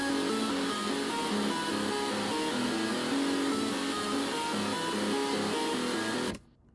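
Serum synth bass lines and a melody run through parallel saturation in Saturn 2, playing as a dense, loud, continuous electronic loop before cutting off abruptly near the end.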